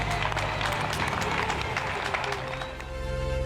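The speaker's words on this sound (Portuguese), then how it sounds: "Centenas de italianos, espanhóis e portugueses vão às janelas para aplaudir os profissionais de saúde." Crowds of people applauding health workers from apartment windows in Italy, Spain and Portugal, a broad, slightly distant clatter of clapping with crowd murmur and a faint tone underneath.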